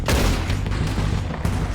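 A quick burst of rapid gunfire in the video game Red Dead Redemption 2, with several close, dense shots packed into under two seconds.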